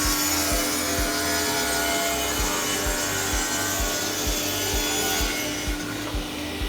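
An Elcon DS vertical panel saw cuts a panel with reverse scoring engaged, a loud steady blade whine over a rhythmic low thumping as the cut proceeds, continuous throughout.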